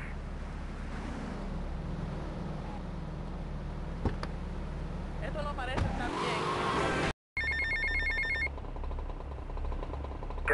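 A payphone rings in the game GTA Vice City, a repeated electronic ring with regular breaks, heard over game sounds and other noise. A brief silent dropout splits the clip.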